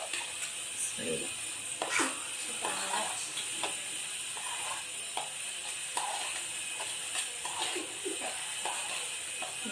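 Spices tempered in hot oil for a red chilli pickle give a soft, steady sizzle dotted with small crackling pops, heard fairly quietly with faint background voice.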